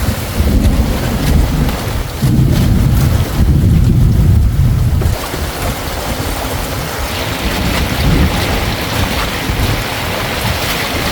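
Heavy wind and rain roar steadily over a small fishing boat moored at sea during a thunderstorm, loud, close and continuous with rough buffeting and no speech.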